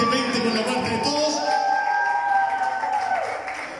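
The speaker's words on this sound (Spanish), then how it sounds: "Un aplauso para todos los oficiadores" An audience applauds and cheers for the officials at the Viña 2020 festival, a broad wash of clapping and shouting voices with sustained cries rising over it, fading slightly at the end.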